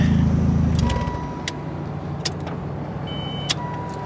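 A cheap old Ford Probe engine idles roughly and then cuts off abruptly about a second in, followed by near quiet with faint clicks and ticks from the car.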